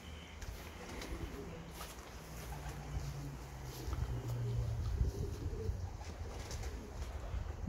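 Racing pigeons cooing softly at the loft during a race return, faint repeated coos under a low outdoor hum with occasional light knocks.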